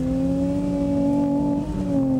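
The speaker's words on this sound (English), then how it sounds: "Hey presto, Porsche 911 through the stereo." Synthesized Porsche 911 engine note played through a Lotus car's stereo, a steady loud droning rev with strong harmonic tones, holding near-constant pitch throughout with no talk.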